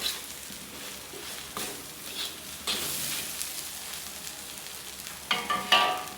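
Spaghetti sauce ingredients stirred in a frying pan, a spoon scraping and clattering over a soft sizzle, with a few sharper scrapes near the end; no talking.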